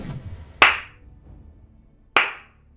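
Two sharp, loud hand claps ring out about a second and a half apart, each decaying quickly into near quiet, with faint low background rumble between them.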